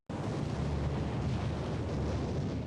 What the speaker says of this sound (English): Nearly 200 ships bombard 50 miles of the Normandy coastline.